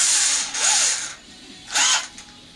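Power drill with a long drill bit boring into a workpiece during RC plane recovering, two loud whirring bursts with rising-falling pitch, then a shorter third burst after a quiet pause.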